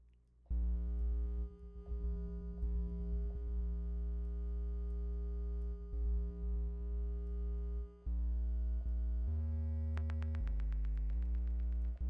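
A lo-fi lead synth built in Reaktor Blocks plays sustained pure tones with delay echoes, holding long notes before shifting to a higher, quicker phrase near the end.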